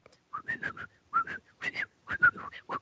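A voice imitates a high-pitched chirping whistle, repeating short warbling bursts in quick groups with brief pauses between.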